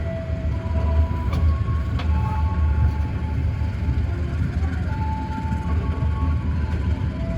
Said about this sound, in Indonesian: berhenti di stasiun Indihiang di sini disilang dua kereta sekaligus, yaitu kereta api Malabar dan KA Lodaya